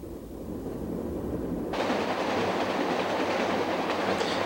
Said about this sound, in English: Another day, another train.